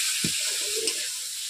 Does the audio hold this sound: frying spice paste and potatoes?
yes